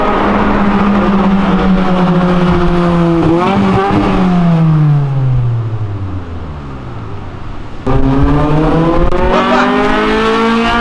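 Volkswagen Golf GTI engine revved hard and bouncing off the rev limiter, loud and close, its pitch climbing and falling in repeated sweeps with a sharp cut before climbing again.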